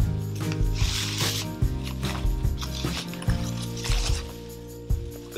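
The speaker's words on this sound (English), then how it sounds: "Slide the plane out of its plastic bag." Luban low angle plane slid out of a plastic bag, a close, quiet crinkling and rustling with scraping and small knocks as the metal tool moves.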